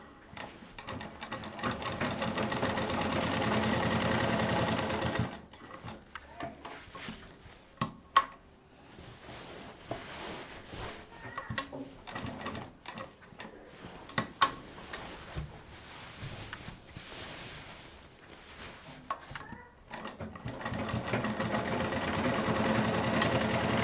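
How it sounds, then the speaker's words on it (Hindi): A sewing machine runs double lines of stitching on a fabric fridge cover, with long steady whirring bursts at the start and end and choppier, stop-start stitching with ticks and clicks in between, close and fairly loud. "अब ये जो हमने लाइनें खींची हैं इन पे हमें डबल मशीन चलानी है"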